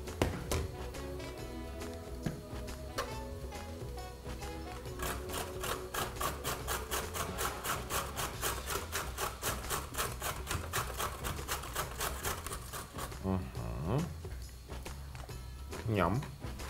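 Carrot being grated for frying in vegetable oil, a steady rhythmic rasping of rapid scraping strokes near and clear, with speech heard over parts of it.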